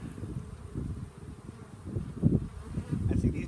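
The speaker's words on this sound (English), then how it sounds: "I see these bees are kind of collecting on the side." Honeybees at an open hive buzz in a low, wavering drone that swells and fades, close to the microphone, with a little wind rustle and no speech.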